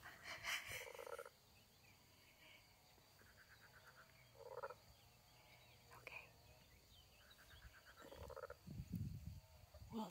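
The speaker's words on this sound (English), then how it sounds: "the frogs were really croaking" Frogs croak in repeated pulsed bursts from a marsh along a French pilgrimage walking path, close and steady across the clip, while a voice speaks briefly and a low breathy whisper-like sound rises near the end.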